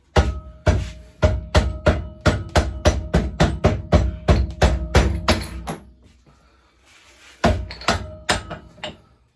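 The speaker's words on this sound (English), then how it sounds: "Don't worry guys, it is a rubber hammer." A rubber hammer pounds on metal parts during a pit bike restoration, landing a long run of loud, evenly spaced blows up close. A brief pause follows, then a few more strikes.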